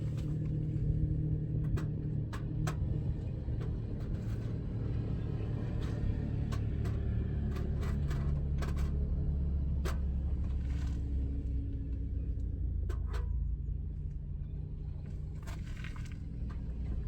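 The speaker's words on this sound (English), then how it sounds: "There's just so much traffic." Road traffic passes by a roadside car-camping spot in a low, continuous rumble that swells and fades, with scattered small clicks and knocks close by and no speech.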